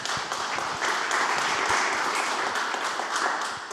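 An audience in a hospital safety gathering claps for several seconds, a dense, steady round of applause with no talking over it.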